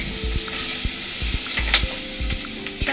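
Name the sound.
stirring curry chicken and potatoes frying in oil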